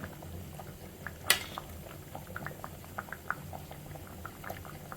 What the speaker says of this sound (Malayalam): മീൻ നല്ലതായിട്ടൊന്ന് വേവട്ടെ.